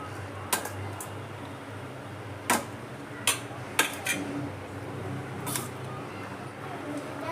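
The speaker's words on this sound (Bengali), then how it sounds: "দেখুন খুব সুন্দর করে আমি মাখিয়ে নিলাম শসা, পেঁয়াজ, টমেটো, ধনেপাতা।" Cucumber, onion, tomato and coriander being mixed together in a bowl, with a few sharp clinks of a utensil against the dish scattered over a steady background hum and low household noise.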